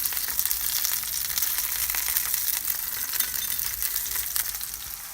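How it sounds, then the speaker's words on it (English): Freshly sliced onions fry in a hot pan with a steady, dense sizzle that fills the whole stretch evenly and fairly loudly, with no voices over it. "I'm going to put the onions that I've just sliced up into the pan"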